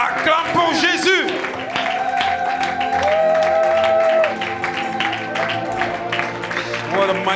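Church congregation at a Saturday deliverance and miracles service applauding and cheering for Jesus, with sustained loud clapping and shouts under music and a voice, continuous throughout.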